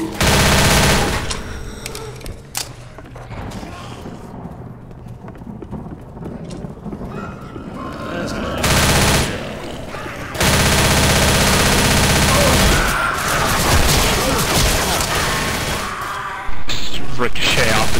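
Dense automatic gunfire roars almost continuously in Left 4 Dead during a zombie fight, with loud bursts, brief lulls and a harsh wall of shots, while a player talks over it.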